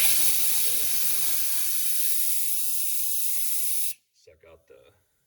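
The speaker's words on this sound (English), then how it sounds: "clean those threads out really good with brake cleaner" Brake cleaner sprays into stripped cylinder head bolt threads on a Hyundai 3.3/3.5 engine as a loud, close, steady hiss lasting about four seconds. It stops abruptly, followed by a few faint clinks.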